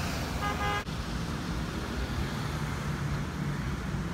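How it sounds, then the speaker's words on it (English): A city bus's squeaky brakes give a short high squeal near the start, followed by steady traffic and engine rumble with no talking. "Ooh, you got some squeaky brakes"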